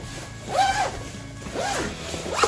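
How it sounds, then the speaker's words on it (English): The fabric hood of a Steelcraft Strider Deluxe stroller is unzipped in close, rasping zipper pulls, with two distinct strokes and a third starting at the end, against a quiet indoor background. "I always unzip the hood when I wash it"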